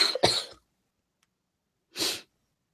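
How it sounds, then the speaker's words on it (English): Two quick coughs in a burst, a pause of silence, then one more cough, close and clear. "You saved the cough."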